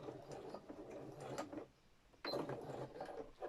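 A sewing machine making a short stab stitch during free-motion embroidery, faint mechanical whirring in two brief runs separated by a pause.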